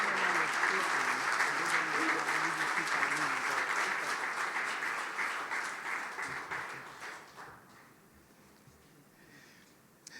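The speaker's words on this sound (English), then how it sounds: "I'd like for you to give him a round of applause." Audience applause at a Veterans Day ceremony held by the Department of Housing and Urban Development, a full dense round of clapping that holds strong, then tapers off and fades toward the end.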